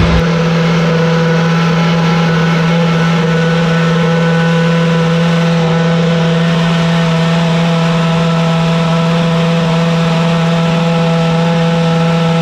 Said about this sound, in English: We're gonna listen to one of the Mercedes McLaren Formula One cars going through a startup procedure.